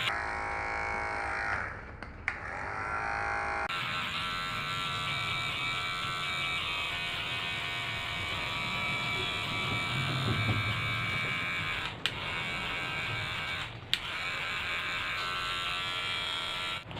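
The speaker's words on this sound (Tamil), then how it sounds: "சின்ன மிஷினில் வந்து 3 mm பாயிண்ட் போடுறோம்." A small electric hair clipper on a 3 mm setting cuts hair during a low fade, its high motor hum running continuously with two brief stops and a soft rasp as it passes through the hair.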